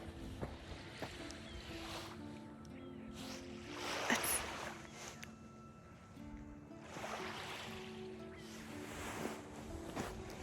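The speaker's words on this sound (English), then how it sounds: "The sound of the water, it's so calm." Ocean water washes against a beach at night, faint swells rising and fading in a few soft surges over a quiet, low background.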